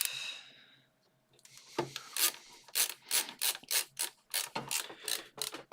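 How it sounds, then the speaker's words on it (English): A screwdriver drives screws during a relaxed home repair: a faint rasp fades out, then comes a run of about a dozen close, rhythmic ratcheting turns with short pauses between strokes, with no talk. "got a few more screws to put in"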